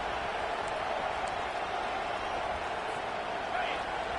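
A stadium crowd at an American football game roars steadily on a third-down defensive stand, a broad, constant wash of cheering and clapping beneath a commentator's play-by-play.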